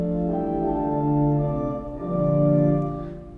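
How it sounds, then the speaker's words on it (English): An Austin pipe organ sounds its Cantus flute 4 foot stop combined with the Hohlflöte, a soft, steady sustained chord that shifts gently between notes, alone with no voice. "We've got a Cantus flute 4 foot"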